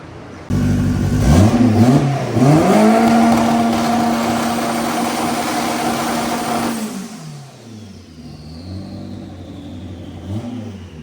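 A turbocharged 900+ hp Honda Civic engine revs hard and accelerates, a loud rising roar that holds a steady high pitch for several seconds, then drops off into a fading, burbling settle, with no talk over it.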